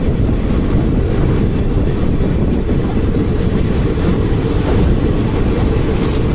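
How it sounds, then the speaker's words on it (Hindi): Seemanchal Express passing the Jodhpur Howrah Express, a loud steady rumble of rolling rail cars with clattering wheels throughout, no voices. "जोधपुर हावड़ा एक्सप्रेस को ओवरटेक कर रही है हमारी सीमांचल एक्सप्रेस।"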